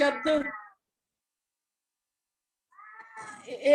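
A cat meows twice in quick succession, close and clear, then falls silent before another drawn-out meow.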